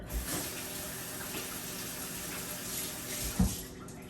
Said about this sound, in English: So I'm just gonna wash my hand, right?